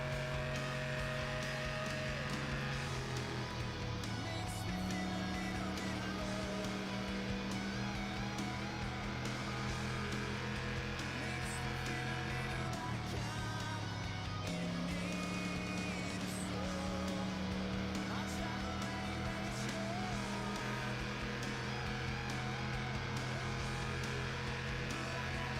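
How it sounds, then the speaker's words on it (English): A car engine in the Test Drive Unlimited video game drones steadily and loudly throughout, its pitch climbing and dropping as gears change, with no talk over it. "This is the first engine sound so far in the game that I really don't like"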